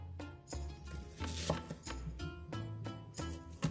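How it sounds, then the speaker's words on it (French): Garlic cloves are pressed and crushed with a knife on a board, making several quick, soft knocks and crunches close by in a short burst. "Écrasez 6 gousses d'ail."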